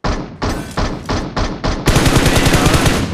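Loud, close gunfire in BGMI, the mobile battle royale: several spaced bursts of shots followed by a sustained rapid automatic stream, with no talking over it.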